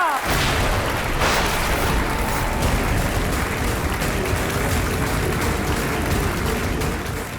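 Dense, sustained audience applause for the winning contestant of a competition, who receives a trophy and a cash prize. It holds steady and loud for the whole stretch, with no voices over it.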